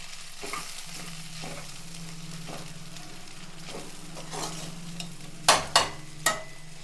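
Fresh turmeric roots fry in ghee with a soft continuous sizzle and occasional stirring scrapes, ending in three sharp loud clacks of a spoon against the pan.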